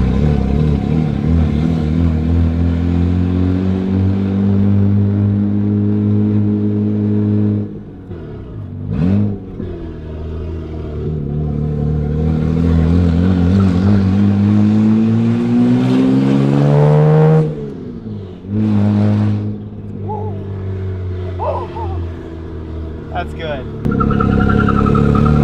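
Car engine fitted with a homemade air intake mod, a loud close drone inside the cabin while cruising, rising and falling with revs and gear changes, with someone talking over it.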